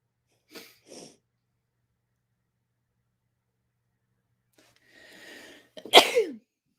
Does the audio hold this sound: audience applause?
no